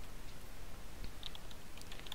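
Computer keyboard typing as a web address is entered: a short run of faint, quick key clicks over a steady background hiss, no talking.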